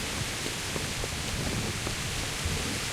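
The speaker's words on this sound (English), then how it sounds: "The rain is loud. My footsteps change in the rain." Rain falling in Kingdom Come: Deliverance: a dense, steady hiss of downpour filling the whole clip at constant loudness, with faint patters within it and no talk.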